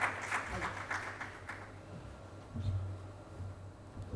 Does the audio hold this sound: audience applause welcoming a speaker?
yes